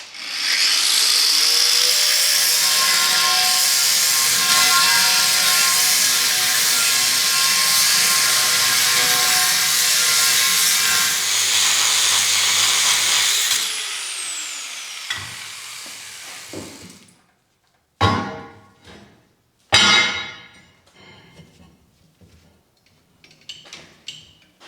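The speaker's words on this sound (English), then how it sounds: "I'm just going to take a grinder and hit it in that groove that I already made," An angle grinder cuts into an existing groove in metal on a Deutz 6006 tractor, a loud, sustained high whine for about fourteen seconds that winds down, followed by a few short bursts and clanks.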